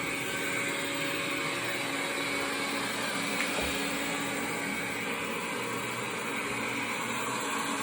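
Viomi SE or Xiaomi Mi robot vacuum mop cleaning a carpet, a steady continuous motor whir and suction hum, moderately faint and unbroken throughout.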